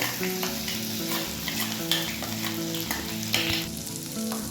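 Whole cumin, chopped garlic and ginger sizzle and crackle in hot oil, a steady close frying hiss broken by scraping stirs and small pops.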